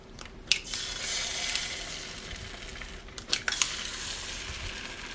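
Frozen bread toasting beside eggs on a hot Dash Flex press grill, giving a steady high crackling sizzle with a few sharp crunchy clicks and scrapes near the start and middle, no voices.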